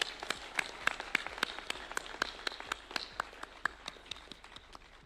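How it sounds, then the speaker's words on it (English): Audience applause at a university signing ceremony, heard as sharp, distinct claps in a steady, fairly sparse rhythm throughout, moderately close and without talk. "Let's clap for AGF."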